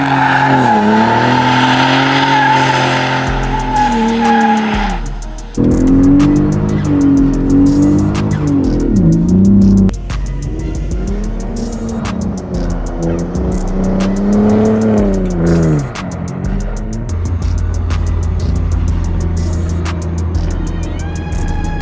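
Ford Raptor pickup truck pulling a U-turn, its tires squealing and scrubbing in long pitch-bending wails over a loud revving engine, close and continuous before the squeal fades into engine rumble.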